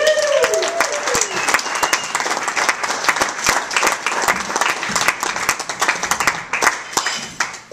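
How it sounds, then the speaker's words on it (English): A comedy club audience gives a comedian a loud, sustained round of applause, with whoops and cheers over dense clapping that thins into scattered individual claps toward the end. "let's have a big, strong round of applause for Doug Morgan, everybody!"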